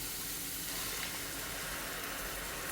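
Ground spice paste for meen ada poured into a very hot pan, a dense continuous sizzle and steamy hiss filling the whole stretch at close range.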